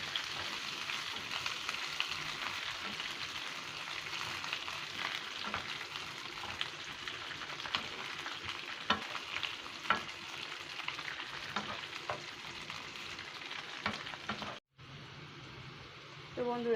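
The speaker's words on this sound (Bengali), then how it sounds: "দিয়ে দিচ্ছি ক্যাপসিকাম কুচি। এটাকে ভালো করে নাড়াচাড়া করে নেব 2 মিনিটের মতো।" Chopped capsicum stirred and frying in a pan for chilli chicken, a steady loud sizzle with scraping stirs, briefly cut near the end before resuming.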